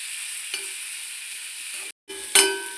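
Dried prawns with onion and green chilli sautéing in a pan make a steady close hiss with a couple of stirring scrapes. The sound is briefly cut off once before the sizzle resumes.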